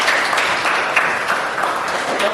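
A classroom full of people claps steadily, a dense, even patter of applause lasting throughout.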